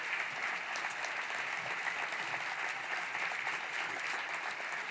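Breakfast event audience giving sustained applause, a thick, even wash of many hands clapping throughout, fairly loud and filling the room, with little distinct cheering.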